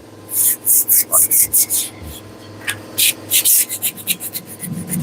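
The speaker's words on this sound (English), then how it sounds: "we're going to sand everything inside of that" Hand sanding inside the drop-down section of a car body to remove surface rust, a series of loud rhythmic rasping strokes, close up, in quick bursts with a short pause midway.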